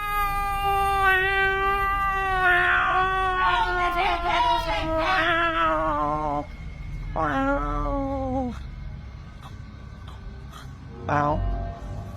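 Eerie cry said to come from a parakang creature, high wavering wails rising and falling over about eight seconds with a brief pause, then a short final squeal, harmonic and cat-like, loud and close with a low background rumble.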